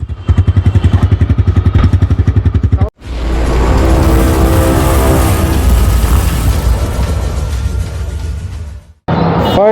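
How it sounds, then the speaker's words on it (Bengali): A TVS Raider 125 motorcycle engine idles with a close, rapid thumping beat, then is revved up into a loud sustained roar for several seconds before cutting back, with a brief restart at the end. "আমরা ইঞ্জিন সাউন্ডটা একটু শুনি।"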